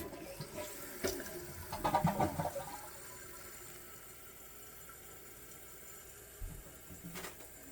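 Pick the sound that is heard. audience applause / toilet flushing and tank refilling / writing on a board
toilet flushing and tank refilling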